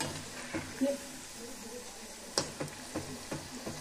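Bajji fritters fry in hot oil with a faint, low sizzle broken by a few soft clicks and taps, quiet and close.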